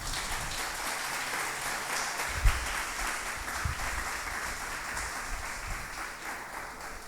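A church congregation applauds during a sermon, with moderate, fairly even clapping that sounds somewhat distant and continues steadily from start to finish.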